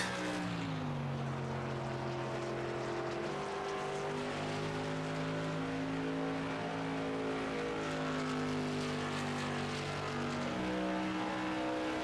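A number 98 sim race car laps Richmond Raceway in an SK Super Series racing game, its engine droning loud and steady throughout as stepped, rising and falling tones track each gear and throttle change, with several cars blending into the roar.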